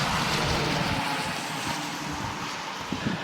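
A John Deere X738 garden tractor with a snow blower attachment runs steadily through light, fluffy snow, a continuous broadband engine and blower roar with wind-like hiss, fairly distant and even throughout.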